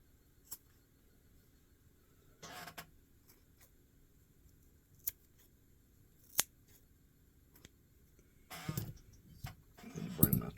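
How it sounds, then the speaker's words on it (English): Scissors snip loose fibers while a crappie and white bass jig is tied: several sharp, isolated clicks spaced seconds apart, with brief rustling handling noise between them and no voice. "So I'm going to go ahead and get this cut."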